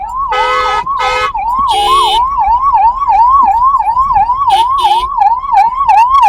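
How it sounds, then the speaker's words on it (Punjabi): A loud ambulance siren wails steadily up and down, close by, while several car horns honk repeatedly around it as the ambulance sits stuck in a traffic jam near a closed bridge. "ਐਂਬੂਲੈਂਸ ਆ ਗਈ ਐਂਬੂਲੈਂਸ ਨੂੰ ਰਸਤਾ ਸਾਈਡ ਕਰ ਲਓ"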